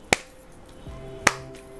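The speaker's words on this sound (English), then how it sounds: "You want to hear the packet go like a clapping sound" A packet of playing cards dropped in a cardistry fan drop lands flat, giving two sharp, crisp claps about a second apart, close and alone.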